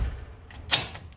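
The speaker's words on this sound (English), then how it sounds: "we close the door" A sliding door with an adjusted striker plate is pushed closed, giving a short rolling slide and then a single sharp latching click, close and fairly loud in an otherwise quiet space.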